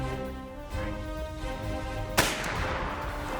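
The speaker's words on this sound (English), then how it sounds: "I took the shot and I missed it." A hunting rifle fires a single shot at a deer, one sharp loud crack about two seconds in, over a steady tonal background with no voices.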